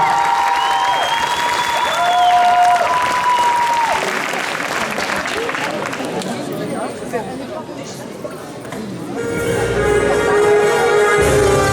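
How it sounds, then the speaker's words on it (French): Loud applause with cheering and chatter from a cosplay show audience at a convention, whistles over dense clapping for the first half before fading into crowd murmur, then music starts. "On les applaudit bien fort"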